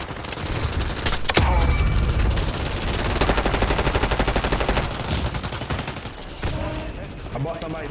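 Rapid automatic gunfire from Call of Duty Warzone on Rebirth Island. It comes in loud sustained bursts with a sharp crack and a steady rattling stretch, and a player talks over part of it.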